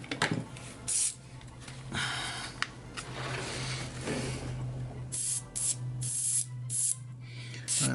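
Airbrush spraying white paint onto a miniature model dumpster, steady hissing bursts of spray that start and stop repeatedly, close and fairly loud, over a constant low electrical hum.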